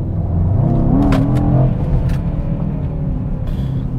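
Mercedes-AMG E63 S wagon accelerating hard in Sport Plus mode on an open road, engine rumble rising and falling through gear changes with sharp crackles, loud and close throughout.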